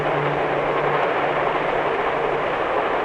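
A 1950s train running on tracks cut into the sides of a mountain range, making a loud, steady rumble with a faint low hum early on and no pauses.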